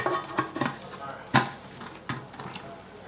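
An Esbit cook pot and its lid clatter on top of a small budget stove, with a series of sharp metallic clinks and knocks, one especially loud, while someone talks close by.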